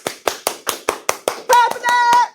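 Rapid, evenly paced hand claps from a small group, loud and close, keep a steady beat while a voice briefly calls out over them.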